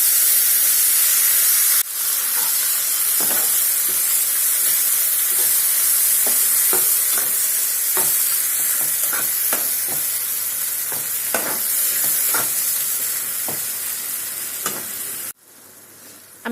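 Onions browning in a pan for a cauliflower and potato curry make a loud, continuous sizzle and hiss with scattered crackles and pops, cutting off abruptly near the end.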